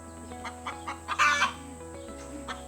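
A hen clucks loudly and repeatedly after laying an egg, a series of sharp squawking calls peaking midway, close by in a backyard with a compost bin chicken tractor.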